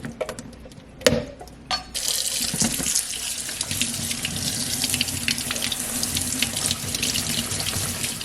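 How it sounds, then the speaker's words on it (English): Kitchen tap water runs steadily into a sink while hominy is rinsed, a continuous bright splashing hiss after a few brief clunks at the start, close and alone. "Now we're just going to rinse our hominy."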